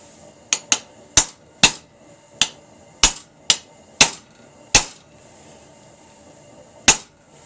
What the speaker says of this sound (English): We're just going to use a chisel, basically eyeball it about an inch up from where the hook ends.